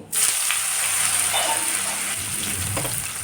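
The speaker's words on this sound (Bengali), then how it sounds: "উচ্ছেতে বেশি তেল লাগে তাই উচ্ছেটা ভেজে নেব" Steady, loud sizzling of bitter gourd frying in hot oil, a constant crackling hiss that starts abruptly and continues throughout.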